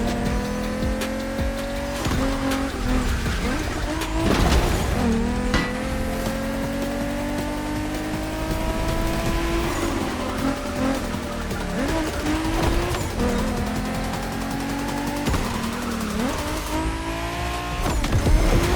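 Cars race in The Crew Motorfest on a Tokyo-style course, with a Toyota Supra in the field. Loud, continuous engine notes rise and shift through gear changes, with revving and tire squeals throughout and no talking.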